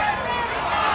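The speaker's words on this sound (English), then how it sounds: "Give it to Bevan, the crowd is saying" Rugby league crowd at a 1975 World Cup match between the Kiwis and Wales, a dense roar of many voices shouting together in a large stadium, steady and loud throughout a brief moment.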